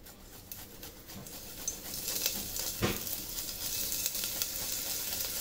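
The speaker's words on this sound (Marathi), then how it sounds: "तर आता आपल्याला ह्यामध्ये आपल्याला आलं आणि लसूण थोडंसं क्रश करून घालायचं आहे." Crushed ginger and garlic sizzle in hot oil, with a steady crackling hiss that builds slightly after one louder stirring burst.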